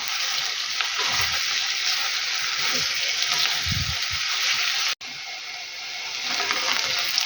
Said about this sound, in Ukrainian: І хай трошечки ще обсмажиться тут морква.